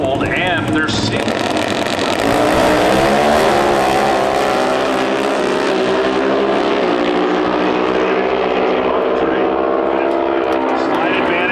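Air-cooled, sealed Pro Stock drag racing motorcycles roaring down the strip at NHRA Route 66 Nationals eliminations in Chicago, a loud, sustained engine howl with rising pitch, heard under an announcer's continuous commentary.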